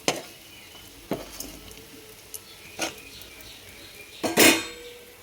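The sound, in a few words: fish 65 pieces sizzling while frying in oil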